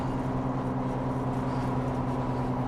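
Matte black Nissan GTR R33 cruising at highway speed around 3,000 RPM, heard from inside the cabin as a steady, droning engine hum that holds level throughout, with no voices.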